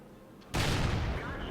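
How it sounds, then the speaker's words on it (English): Enemy artillery fire in World of Tanks lands as one sudden heavy blast, loud and close, then decays into a long rumbling roar after a brief quiet moment. "There's the enemy artillery."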